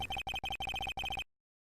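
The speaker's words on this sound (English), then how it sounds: "The phone that just rang wasn't mine." A phone in the Phoenix Wright video game rings with a bright electronic trill, several quick pulsed bursts in succession before cutting off to silence.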